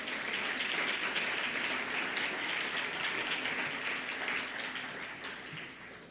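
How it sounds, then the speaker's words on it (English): Sustained applause from an audience at a college athletic hall of fame ceremony, dense steady clapping filling the room throughout and easing slightly toward the end. "We can give one more round of applause to all of our individual inductees."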